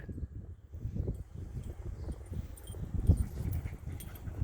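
A dog on a walk whimpers faintly in soft, intermittent whines, close by, with rustling and low outdoor noise around it.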